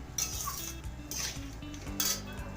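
A metal spoon stirs spices into a vegetarian dish of potato and watermelon rind in a pan. The spoon scrapes and clinks three times in a loose rhythm, close and clear, with no voices.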